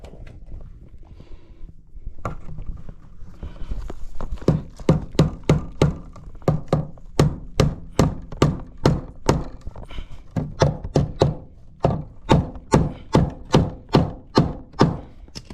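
Hammer blows driving a cable staple into wood near an electrical box during sub-panel wiring: some quiet handling at first, then a long run of sharp, evenly spaced close knocks, with a brief pause before the steady striking resumes.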